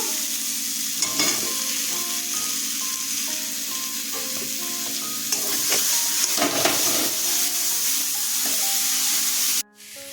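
Potato and eggplant pieces fry directly in a spice paste in a hot pan, giving a close, continuous sizzle broken by scraping stirs, with faint tonal music beneath before an abrupt cut near the end.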